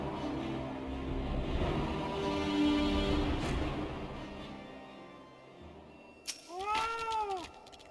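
A large, bloated cat in Final Fantasy XIV gives a few loud, drawn-out meows close by near the end. Softer, murky background sound comes first, and no one speaks.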